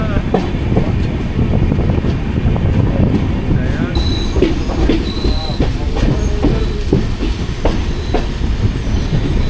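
The Jamnagar–Tirunelveli Express on the Konkan Railway rumbles and clatters as it slows toward a halt, with steady wheel-on-rail noise, rhythmic clicks and brief high squeals from the wheels, heard from inside the train.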